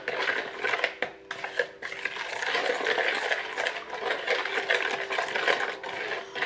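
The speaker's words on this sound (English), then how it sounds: "Now I just use this one to stir it." Stirring a Hawaiian-style garlic sauce with honey for fried chicken drumsticks: close, uneven scraping and clinking of a utensil against a pot in irregular strokes, no talking.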